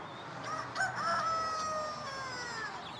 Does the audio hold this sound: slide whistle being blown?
no